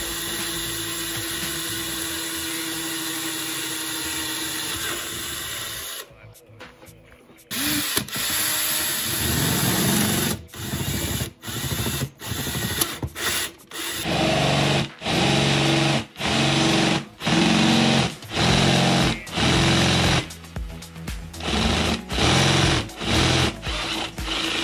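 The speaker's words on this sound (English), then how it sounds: "We're going to drill a 1/8 hole, step our way up to 1/2 inch" Power drill boring holes in a Jeep TJ fuel pump, stepping from an eighth-inch up to half-inch, a close high whine that runs steadily, then breaks into a series of short repeated bursts, with no talk.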